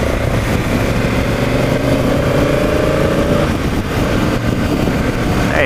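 A BMW F650GS single-cylinder motorcycle idles and revs close by, a steady loud thumping engine tone with a slight pitch rise partway through, running continuously with no talk.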